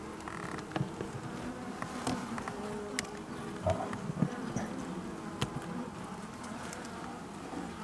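Dense, continuous buzzing of many honeybees close by at a hive, with occasional louder individual passes and faint taps.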